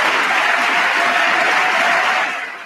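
Audience applause at a presidential State of the Union address fills the hall in a dense, loud, sustained wash of clapping that cuts off abruptly at the end.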